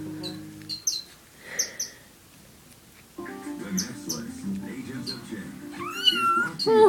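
A Sphynx kitten meows in short, high calls spread through the moment, with someone talking warmly and softly close by and some chirpy squeaks near the end.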